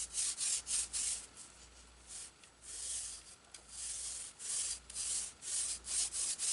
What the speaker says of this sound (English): I have this sanding tool that can sand the bevel.